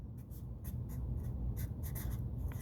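A pen writes on ruled paper up close, quick scratchy strokes arriving in short bursts over a faint low background hum.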